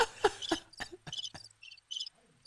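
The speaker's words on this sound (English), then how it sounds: "Oh, the crickets have gone off." Crickets from a sound effect chirp in a series of short, crisp bursts, fairly close and faint, with quieter pulses trailing off toward the end and no talk.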